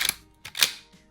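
Safety catch on a Mossberg-style shotgun being worked, two or three sharp, close mechanical clicks in quick succession, crisp and alone.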